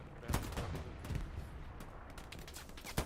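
A machine gun on a rooftop in the World War II shooter Hell Let Loose fires in scattered bursts. The sharp cracks are fairly distant and rise over a noisy battlefield background.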